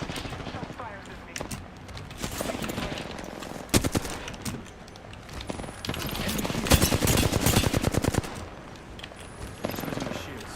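Rapid bursts of automatic gunfire and scattered single shots crackle through an Apex Legends firefight, with dense volleys near the middle and game voice callouts underneath.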